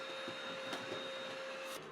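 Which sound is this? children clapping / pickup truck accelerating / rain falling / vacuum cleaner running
vacuum cleaner running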